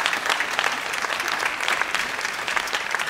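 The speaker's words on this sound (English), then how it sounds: "can we just put our hands together for the judges?" An audience at a national youth jazz competition applauds the judges with steady, dense clapping that fills the whole stretch at an even, fairly loud level.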